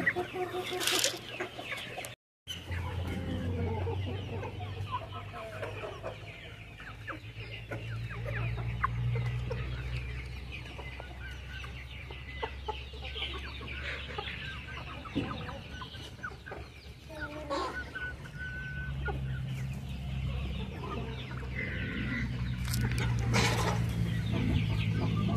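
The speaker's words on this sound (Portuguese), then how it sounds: "Tem frango aqui espalhado para todo lado," Chickens scattered around a dry farmyard clucking steadily while pecking at corn, a busy low chorus of fowl close by with occasional louder calls and rustling.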